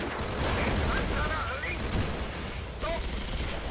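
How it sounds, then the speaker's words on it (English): Enemy mortar fire in the tank video game Steel Fury, heard from a Jagdpanzer IV: dense, rumbling blasts and crackling gunfire fill the battlefield, with a fresh burst of noise near the end. "That's the enemy mortar."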